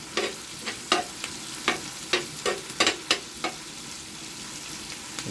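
Squid for mekus-mekus sizzling pusit frying in a hot pan, with a steady sizzle under a series of sharp scraping stirs at an uneven rhythm, close and moderately loud, no talking.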